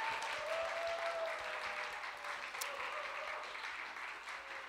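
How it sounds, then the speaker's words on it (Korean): An audience at a chapel singing contest claps for the crew, a faint, distant, steady patter of applause heard from afar in a large room. "우리 채플 크루 다 박수해 주시기 바랍니다."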